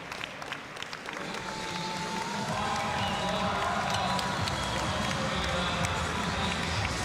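A crowd at the Invictus Games 2023 weightlifting cheers and claps to urge on a lifter attempting a 55-kilogram lift, swelling into a sustained roar over a few seconds, with a commentator talking over it.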